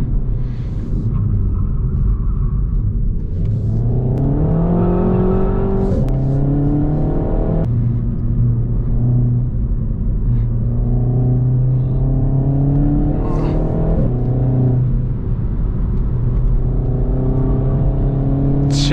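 A car engine accelerates hard through several gears on an open road, each loud, rising whine climbing in pitch before dropping at the shift, with a deep, steady cabin rumble throughout.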